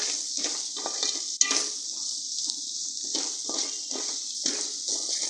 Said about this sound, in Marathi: आता हे सगळे मसाले घातल्यावर आपण जरा हे परतून घेऊया